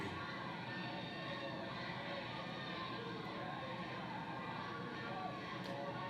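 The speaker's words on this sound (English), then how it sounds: "You can hear the fans." Crowd noise from wrestling fans at a 1986 state championship match in Hopkinsville, a steady, dense roar of voices and cheering filling the whole stretch at a distant, even level with no single voice standing out.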